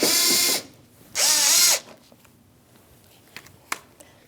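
A power screwdriver backs a Phillips head screw out of a 2016-2025 Chevrolet Malibu in two short whirring bursts, followed by light clicks and handling of the part.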